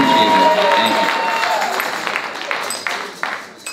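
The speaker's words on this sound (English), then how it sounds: "I want you guys to give yourself a round of applause." An audience at a dance and drum company show claps and cheers loudly, a dense wash of applause that slowly thins and fades over a few seconds.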